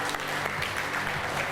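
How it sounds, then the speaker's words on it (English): Audience applause at a reality TV show event, a dense, continuous patter of many hands clapping at steady volume throughout. "Clap for them. All the people that are here today, I congratulate you or clap for yourself."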